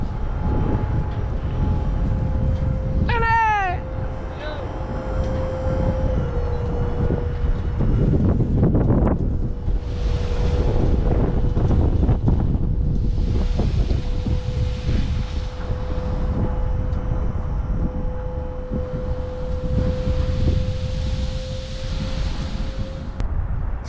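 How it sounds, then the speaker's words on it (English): Gusty spring wind blows across an outdoor paver patio work site, a steady rushing roar with airy swells, over a constant low mechanical hum and no talking. "Still windy, guys, but beautiful day, really."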